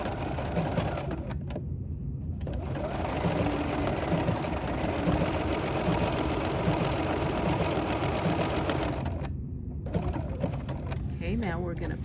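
A sewing machine runs a continuous, dense whirring stitch while appliquéing a quilt with an open toe foot, motor steady and close with brief pauses as the fabric is pivoted, a voice talking over it.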